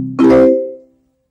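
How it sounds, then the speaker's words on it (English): Marimba voice on a Thaynards TS-340 electronic keyboard, with a single loud mellow struck note that rings briefly and fades within a second. "Marimba."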